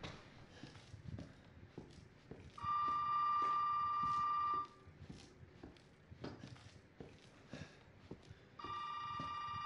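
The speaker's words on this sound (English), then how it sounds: "Here goes the fucking phone again." Telephone ringing in the video game Resident Evil 7, two long bursts of a steady electronic ring separated by a pause, amid soft footsteps and quiet ambient game sounds.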